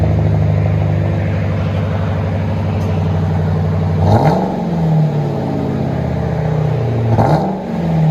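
A 2004 Ford Crown Victoria with a 4.6L V8 and true dual SLP Loudmouth exhaust idles with a deep, steady rumble, then two sharp revs rise and fall back, loud and close.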